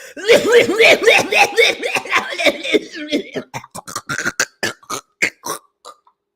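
A person imitates a harsh, hacking cough in a rapid series of raspy bursts that taper off into shorter, breathier coughs.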